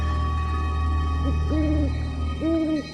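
An owl in a forest gives a few deep, hollow hoots, rising and falling, over a steady low background drone with no voices.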